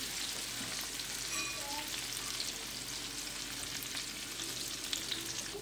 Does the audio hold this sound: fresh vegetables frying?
yes